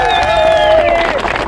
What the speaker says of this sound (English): Let's have a big clap for all of them.